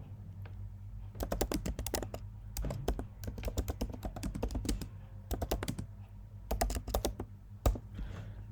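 Fingers type quickly on a computer keyboard, producing close, crisp bursts of rapid key clicks separated by short pauses, with no voice over them.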